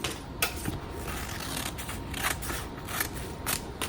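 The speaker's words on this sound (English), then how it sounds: "use the scissors again and just cut the top and the bottom" Scissors snipping through transfer paper in a handful of quick, close cuts, each a short crisp crunch over a soft steady hiss.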